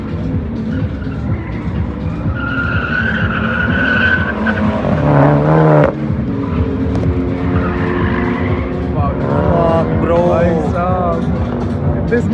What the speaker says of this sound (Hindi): मिनी कूपर वर्सेस ऑक्टाविया, और काफ़ी अच्छा रन चल रहा है भाई